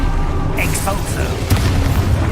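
Exposo spell explosion in the video game Hogwarts Legacy, a booming blast with a crackling burst, heard under voices and other game effects.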